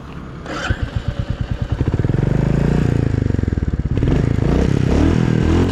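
A 2025 Royal Enfield Goan Classic 350 single-cylinder engine thumps into life with spaced pulses that quicken into a steady loud rumble, rising as the bike pulls away, with a brief clatter near the start.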